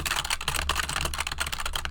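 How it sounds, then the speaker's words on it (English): Rapid computer keyboard typing sits close and loud, a dense run of clattering keystrokes in an irregular rhythm, heard alone without talk. "I'm gonna use my keyboard so everyone's gonna hear it"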